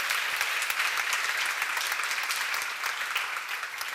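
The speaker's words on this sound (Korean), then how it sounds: "박수를 한번 드리세요" A church congregation at a seminar claps together in a sustained, even burst of applause, fairly distant and moderate in level, continuing throughout.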